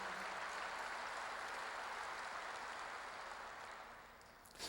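Applause from a congregation during a sermon at a Korean church, a soft, distant, continuous wash of clapping that slowly tapers off toward the end.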